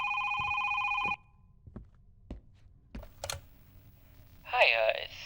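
A telephone in a horror video game rings with a harsh electronic trill for about a second and then cuts off, followed by scattered faint clicks and knocks and a brief burst of a voice near the end.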